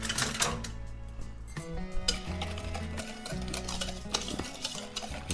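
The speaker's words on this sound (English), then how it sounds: "I'm just gonna whisk this up" Pear pie filling whisked in a bowl, a brisk, steady scraping and clinking that runs throughout at close range with no talk.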